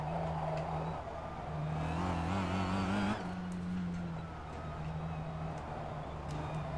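A race car engine in a racing video game sits on the rev limiter. It makes a loud, sustained, buzzing drone with a rapid stuttering pulse and slight pitch wobble, steady throughout, with no talking.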